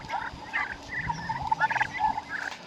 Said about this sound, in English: Or turkeys.